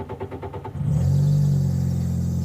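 A 1998 Craftsman LT1000 riding mower cranks with a brief rhythmic starter churn, then its small engine catches and settles into a steady, close, loud idle rumble, with no talking.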